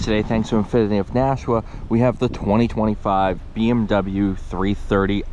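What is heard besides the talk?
No everyday noise stands out behind the speech.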